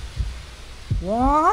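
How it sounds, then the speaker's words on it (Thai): In the horror video game Yomawari: Night Alone, a heartbeat sounds as a few low, dull thumps spaced under a second apart, heard beneath a man's short spoken exclamation. "ทำไมหัวใจเต้นแบบนี้"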